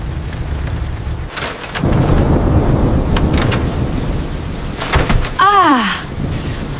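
Thunderstorm with heavy rain, a steady loud downpour drumming on a surface, with sharp thunder cracks and rumbles breaking through and a brief whistling sweep near the end; no talking.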